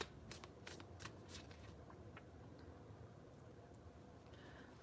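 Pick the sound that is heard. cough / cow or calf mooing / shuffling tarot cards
shuffling tarot cards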